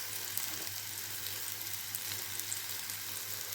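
A ground peanut mix sizzles gently with pumpkin in a pan, a soft continuous frying hiss with faint crackles and a low steady hum beneath, no talk.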